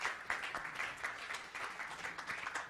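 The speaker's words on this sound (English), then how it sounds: "If we can just give a round of applause and some energy to our panelists." Applause from a conference audience greeting the panelists of a private investor panel, a dense and steady patter of many hands with no break.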